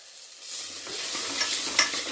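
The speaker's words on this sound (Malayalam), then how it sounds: "നല്ല വറുത്തെടുക്കണം." Drumstick leaves frying in a pan with a pinch of turmeric, a steady soft sizzle with light stirring scrapes building after a quiet start.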